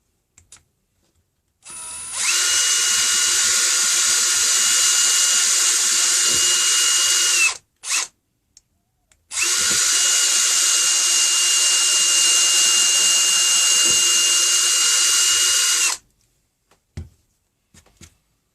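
Power drill boring a pilot hole with a 2.5mm bit into a wooden push stick, two long loud whining runs of about six seconds each, separated by a short pause, with brief bursts at start and end.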